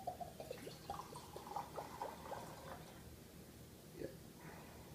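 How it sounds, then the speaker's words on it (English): Evan Williams Single Barrel whiskey poured from the bottle into a glass, a quiet trickling splash running through the first few seconds, faint and close, with a few small clinks. "let's pour this."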